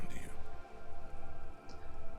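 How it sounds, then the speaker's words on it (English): Rain falls on wooden boards and the surrounding water in the video game Disco Elysium, a soft, steady patter of drops with faint drips, heard briefly beneath a low, rhythmic background. "All around you, rain keeps falling down. On the wooden boards she's standing on, and on the water around you."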